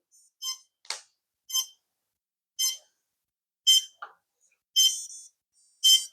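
Several short, bright electronic beeps from a quadcopter drone's ESCs during throttle calibration sound one after another with brief gaps, along with a couple of lower blips, clear and close in an otherwise quiet setting.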